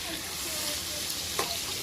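Mussels with tomatoes and green chili in a pan, giving a steady, even sizzle and hiss throughout at moderate loudness.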